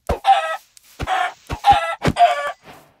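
A chicken in the Minecraft video game clucks loudly and close by, in a quick run of separate bursts with short gaps between them.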